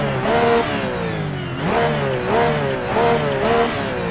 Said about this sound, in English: That is what the Darsche, aka Porsche, sounds like.